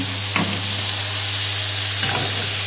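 Mushrooms frying in a pan: a steady, close, even sizzle runs throughout with a couple of soft stirring scrapes and no talking.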